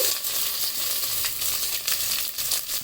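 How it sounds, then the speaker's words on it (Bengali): Onions and spices fry in a pan for a beef and radish curry, giving a continuous close sizzle with scattered crackles and light stirring clicks. "এগুলি এক মিনিট মতন একটু ভেজে নিলে হয়ে যাবে"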